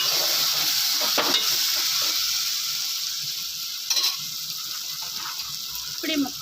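Curry sizzling and frying in a pan, hotel-style cooking, with a steady broad hiss throughout and a few brief stirring scrapes and clinks near the middle and end.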